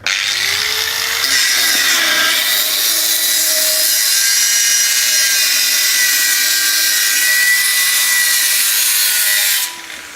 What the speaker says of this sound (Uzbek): Bolg'arkisini ishlatib ko'rsatib beraman.